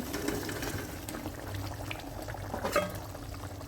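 Water bubbling at a steady boil in a cooking pot, ready for fried paneer in a spinach curry, a soft continuous low simmer heard alone and close.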